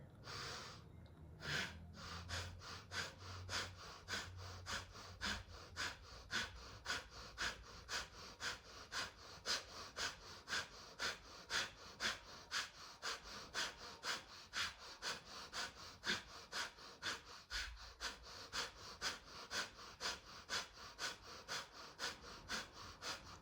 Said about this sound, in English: 30 fire breaths.